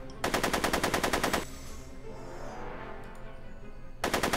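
Rapid automatic gunfire from a Back to the Future video game, two sustained bursts of fast repeating shots, loud and close, separated by a quieter stretch of background game ambience.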